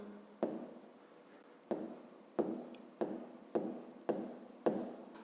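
Pen strokes scratch across paper in about seven short, distinct bursts at a steady pace, close and quiet, each stroke followed by a brief lull.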